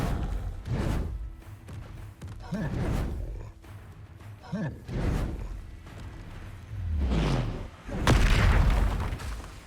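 In the video game Hogwarts Legacy, an Expelliarmus spell goes off among a string of other spells, heard as a series of heavy booms and whooshing bursts spaced a second or two apart.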